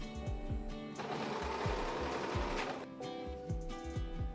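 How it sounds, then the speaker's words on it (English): A sewing machine stitches fabric for a door stopper, running in a steady continuous whir with a rhythmic needle thump close up, pausing briefly and resuming with short bursts of stitching. "You can sew this by hand, but I'm going to use a sewing machine."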